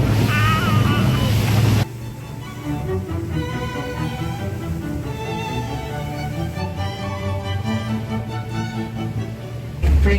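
Motorboat running at about 45 km per hour on the sea off Peru, a steady loud engine roar mixed with rushing water and wind buffeting the microphone.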